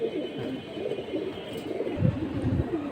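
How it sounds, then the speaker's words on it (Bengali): Pigeons coo softly at a busy pigeon market, low throaty calls repeating over a murmur of background activity, moderately close and fairly faint. "এটা বশির ভাইয়ের জেনারেশনের কবুতর, অনেক ভালো মানের কবুতর এই পেয়ারটা"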